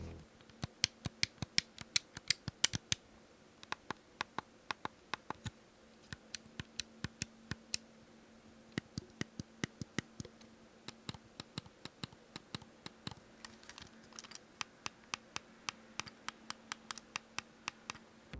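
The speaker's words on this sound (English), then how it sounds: "I want to hear what those mouse clicky buttons sound like." Crisp mouse-style click buttons on a HexGaming custom Xbox Series S/X e-sports controller pressed repeatedly, sharp close clicks in quick bursts and steady runs against a quiet background hum.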